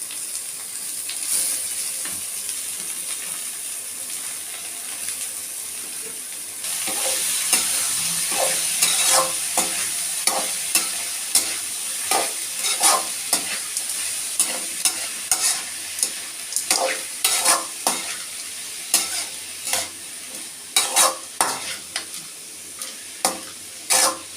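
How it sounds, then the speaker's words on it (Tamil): Radish greens sauté in a pan with a steady soft sizzle, while a spoon stirs them in a series of sharp, repeated scraping clicks that grow more frequent toward the end. "நல்லா வதங்கிடுச்சு கருகிடக்கூடாது"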